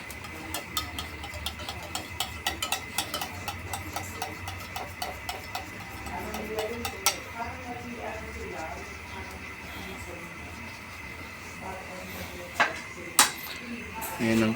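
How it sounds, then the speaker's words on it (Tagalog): A utensil scraping and clinking rhythmically against a pan while stirring egg with onion and chili, a steady run of metallic taps that thins out midway, with a few louder knocks near the end. "Haluin po natin siya."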